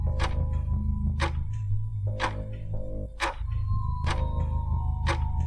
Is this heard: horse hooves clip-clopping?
no